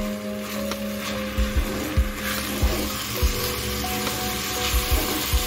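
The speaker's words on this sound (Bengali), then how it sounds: "আমি গ্যাসটা মিডিয়ামে রেখে 4 থেকে 5 মিনিট চালটাকে ভালো করে ভেজে নিব।" Washed rice frying over medium gas in a pan for egg pulao, a constant soft sizzle broken by repeated scraping stirs of a spatula at a steady rhythm, close and moderately loud.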